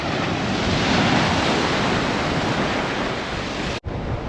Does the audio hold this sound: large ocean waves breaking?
yes